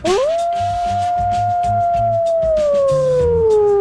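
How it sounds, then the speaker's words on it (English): A long, sustained howl, loud and close, holding steady before slowly sliding downward, set over low background music as the stinger for a sports radio show's Howl segment. "The beloved Howl"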